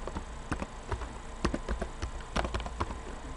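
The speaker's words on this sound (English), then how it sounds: "oh, this keyboard's crazy" Fast, uneven keystrokes on a computer keyboard while a search is set up on a real-estate listing system, the clicks close and fairly quiet with no talking over them.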